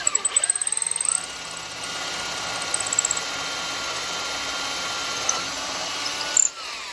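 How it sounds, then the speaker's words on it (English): A power drill bores a hole through wood in a woodturning workshop, starting with a rapid stutter of short bursts, then a steady high whine held for several seconds before a brief surge and stop. "we've just got to drill a hole through here"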